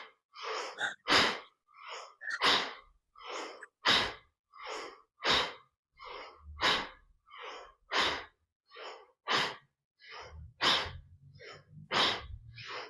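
Rhythmic breathing during a morning yoga session: a steady series of about fifteen sharp, forceful breaths, evenly spaced and close, with a faint low hum entering near the end and no talking.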